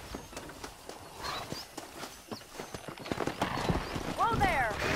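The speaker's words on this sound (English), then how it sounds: "Let's see if we can't wrangle some horses." Hooves clip-clop steadily on hard ground while a horse whinnies, amid busy game sounds and voices in Red Dead Redemption.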